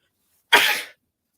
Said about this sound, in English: Oh, I just had to sneeze